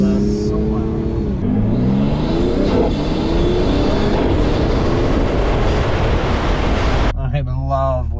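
A Toyota Supra running E85 with an Armaspeed intake, downpipe and JB4 accelerates hard, its loud intake roar climbing through the gears close up, with an engine note surging before easing near the end.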